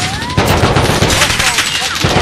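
Video game gunfire, loud rapid bursts of shots fired continuously at close range, with faint voice underneath.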